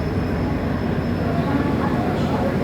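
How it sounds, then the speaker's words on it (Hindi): The Belagavi–KSR Bengaluru Superfast Express gives a steady, loud rumbling roar of train noise heard from on board, continuous and unbroken throughout. "ये है Belagavi superfast express, Belagavi KSR Bengaluru superfast express."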